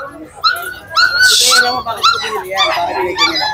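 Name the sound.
dog barking and whimpering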